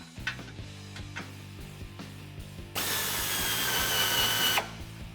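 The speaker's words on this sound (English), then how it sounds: "Grab your 15 millimeter socket and loosen this clamp." A 15 mm socket on a power or ratchet tool loosens the exhaust clamp on a 2019 RAM 1500 5.7L HEMI. Brief ratcheting clicks lead into a loud, steady whirring run of about two seconds, then stop.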